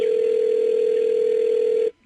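A single steady telephone tone sounds while calling a voicemail line, loud and unbroken for nearly two seconds before cutting off abruptly into near silence.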